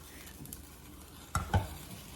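Cooked noodles stirred into a simmering sauce in a pan on a home stove, a faint sizzle underneath with two soft scraping knocks of the utensil near the end.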